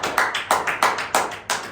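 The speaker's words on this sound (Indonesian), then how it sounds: "Tepuk tangan dulu dong." An audience claps hands in rhythm, six or seven loud, evenly spaced claps about a quarter second apart, close and clear with no talking.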